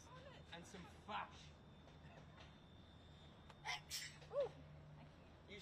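Faint sneezes and short sharp breaths break through a quiet room with low background hum and soft murmuring, a couple of brief bursts near the end.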